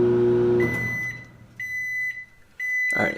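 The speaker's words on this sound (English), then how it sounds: "set it in the middle of the microwave and time it for 7 minutes, and we'll get that going" A microwave oven runs a vinegar steam-clean cycle. It hums steadily at first, then gives three sustained electronic beeps with short gaps between them, and a clunk like the door opening comes near the end.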